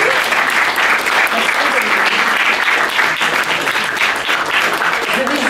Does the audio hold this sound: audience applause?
yes